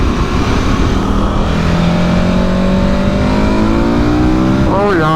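A KTM Super Adventure S motorcycle accelerates hard with its quick shifter, its engine note loud and close, climbing steadily before a quick upshift near the end, all over heavy wind rush.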